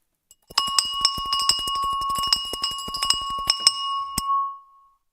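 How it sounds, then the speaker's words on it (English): A bell rings during a live stock market morning show, struck rapidly and continuously for about three seconds with bright, sustained metallic clangs, then one last strike that rings out and fades. No one speaks. "That rung a bell for a long time."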